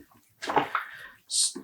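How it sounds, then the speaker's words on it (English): Dyed commercial yarn sloshes and splashes as it is poked and dunked in a small container of rinse water, a couple of brief wet bursts close to the mic. "poking it a bit in the water"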